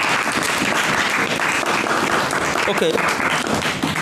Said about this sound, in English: now clap for everybody.